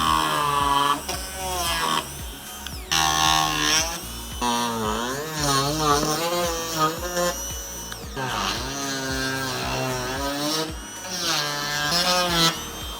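A diamond cutting wheel slices through the plastic headlight lens and trim of a 2008–2013 BMW X5 (E70), a loud, continuous whining grind with rising and falling pitch as it cuts in repeated passes, running nearly without pause.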